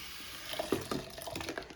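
Water poured and swirled into a bowl of hair conditioner being mixed by hand, a few soft close splashes and trickles, fairly quiet with no talking.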